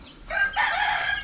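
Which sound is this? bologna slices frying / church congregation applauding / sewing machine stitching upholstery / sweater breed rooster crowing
sweater breed rooster crowing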